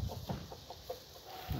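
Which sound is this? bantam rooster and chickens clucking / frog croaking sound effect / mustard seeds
bantam rooster and chickens clucking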